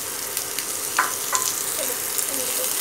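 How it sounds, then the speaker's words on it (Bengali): Chopped onions and chillies frying in hot oil, a steady close hiss of sizzling with a few small crackles and the scrape of a utensil, no voices. "তেলটা গরম হয়ে আসছে, এর মধ্যে আমি পেঁয়াজ কুচিগুলো দিয়ে দিচ্ছি, তার সাথে সামান্য কিছু মরিচ কুচি এর মধ্যে দিয়ে দিব"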